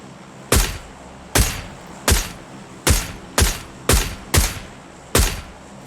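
Eight loud, booming gunshots in PUBG Lite fired one at a time at uneven intervals, each with a sharp crack and a short decaying tail.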